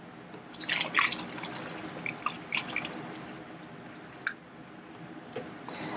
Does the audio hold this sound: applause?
no